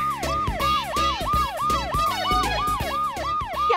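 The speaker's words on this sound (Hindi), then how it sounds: "अरे कान खड़ा है, अलार्म मुन्ना, कैसे भी करके बंद कर इसे।" A household alarm rings loudly in a home, sounding as a steady run of rising-and-falling electronic wails that repeat rapidly and fill the whole clip, with no one talking.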